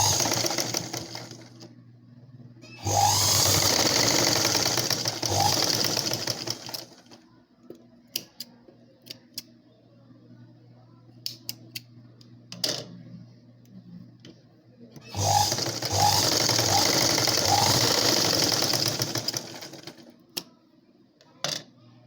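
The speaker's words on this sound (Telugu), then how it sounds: "ఈ విధంగా రెండో వైపు కూడా ఈ విధంగానే ఫోల్డ్ చేసుకొని మనం స్టిచ్చింగ్ చేసుకోవాలి షోల్డర్ దగ్గర." A sewing machine stitches the shoulder seam of a blouse in two loud, steady runs of rapid mechanical whirring, each a few seconds long, separated by quieter handling clicks and taps.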